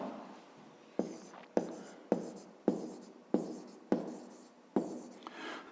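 A pen scratches across paper in a fifth-grade maths exercise, with seven or eight distinct strokes at roughly half-second intervals, each starting sharply and trailing off, close and fairly quiet.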